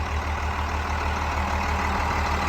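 A 2005 International 7400 cab-and-chassis truck with a DT530 diesel engine idles nearby, a steady low rumble with an even droning hum and no speech.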